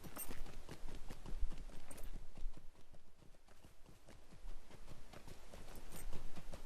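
Horse hooves gallop in the fantasy online game LOTRO, a fast, steady clip-clop rhythm of rapid repeated thuds running continuously and fairly loud, with no talking over it.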